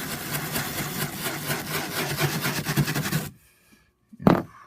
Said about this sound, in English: So I'm going to clean this up with a wire brush.